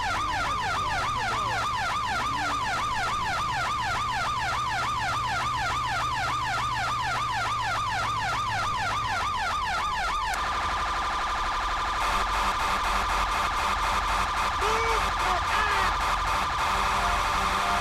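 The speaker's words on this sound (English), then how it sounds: "I'm gonna do the most annoying siren noise." A rapidly wailing emergency vehicle siren in GTA V, loud and continuous, switching partway through to a different faster-pulsing siren tone, with no talking over it.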